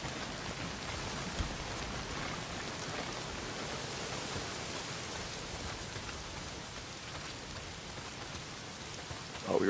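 Heavy rain pours steadily in Days Gone, a constant hiss of drops on surfaces with no pauses, ending with a brief louder bump.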